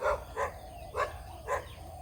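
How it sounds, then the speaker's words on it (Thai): A dog barks four times in an even rhythm, moderately close, over faint outdoor background noise. "หมาข้าเห่านะครับ"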